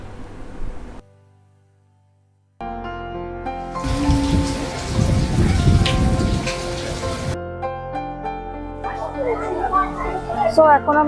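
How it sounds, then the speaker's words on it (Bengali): Storm rain pours down at a resort near Kolkata, a dense steady hiss swelling mid-clip over background music and fading into lighter patter with high chirping sounds. "বৃষ্টি নেমে পড়েছে"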